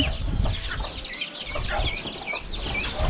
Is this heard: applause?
no